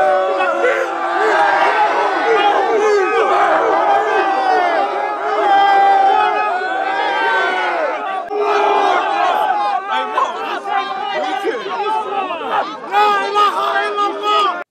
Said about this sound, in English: Towards evening, a large crowd formed and began yelling.